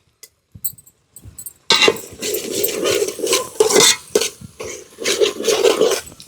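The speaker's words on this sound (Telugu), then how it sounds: "ఇప్పుడు మెత్తగా ఉడికిపోయిన తర్వాత అయితే మటన్ వేసుకుందాము" Mutton goes into a pan of softened gongura leaves and tomatoes: a few light clinks, then a sudden loud sizzle and sputter with scraping and stirring noises that carry on to the end.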